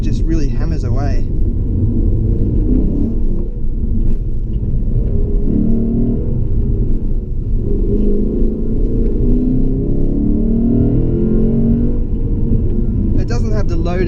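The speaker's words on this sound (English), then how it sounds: "And that V8 soundtrack is addictive. It's like a jackhammer of an engine." A 2016 Lexus GS F V8 under way, a loud steady low rumble with rising and falling engine pitch heard from inside the cabin, with brief other noises at the start and end.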